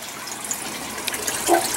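Water splashes and trickles while a fig tree is being watered outdoors in a humid setting, a steady soft pour with a few brief louder gushes near the end.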